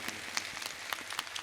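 Scattered, faint clapping from the audience at an All India Mushaira poetry gathering, with sparse individual claps sounding somewhat distant.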